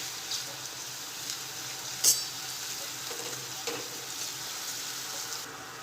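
Soft, steady sizzle of ginger, green chili and garlic paste sautéing in oil, faint and close, with a brief clink of a utensil partway through.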